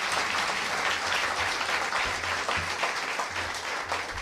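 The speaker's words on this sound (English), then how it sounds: "I would ask that you give them a round of applause because they have come through." A large audience at a community violence intervention event with the governor and local leaders applauds donors, steady dense clapping filling the whole stretch at full volume with no pauses.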